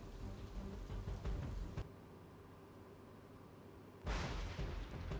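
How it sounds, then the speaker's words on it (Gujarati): Torrential rain pours in the rural area of Dhari in Amreli during flooding, a dense, steady roar of rainfall that eases briefly in the middle and then surges back, moderately distant, with no voices. "અમરેલીના ધારીના ગ્રામ્ય વિસ્તારમાં પણ મુશળધાર વરસાદ પડ્યો હતો।"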